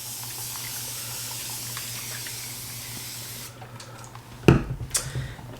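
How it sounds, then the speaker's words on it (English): Water being sprayed over seed starting trays to wet the soil: a steady hissing spray runs for several seconds, then breaks into a few short, nearer bursts and squirts toward the end. "we're just going to spray these with a little bit of water to wet them"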